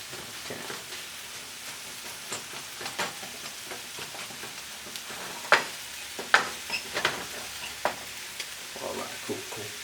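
Tomatoes, tomato paste and onions for a vegan sofrito fry in a pan and give off a steady, soft sizzle. Sharp scraping and clacking sounds from stirring with a utensil punctuate the sizzle at close range.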